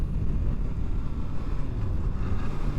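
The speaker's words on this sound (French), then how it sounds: "il y a énormément de vent aujourd'hui" Strong wind buffeting a motorcycle rider's microphone, a dense low rumbling roar that holds steady and loud throughout with no voice.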